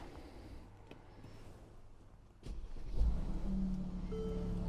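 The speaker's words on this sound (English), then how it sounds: "let's get inside, start the engine, and" A 2017 Mercedes-Benz GLE400 Designo 4Matic engine starts at about 2.5 seconds with a low burst, then settles into a steady, moderately loud idle hum that runs to the end, preceded by quiet cabin rustling.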